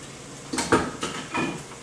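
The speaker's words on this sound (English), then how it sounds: "we're going to add a can of diced fire roasted tomatoes" Canned diced fire-roasted tomatoes tip into a pot for plant-based jambalaya, giving a few short metallic clanks and a soft wet plop, close and brief.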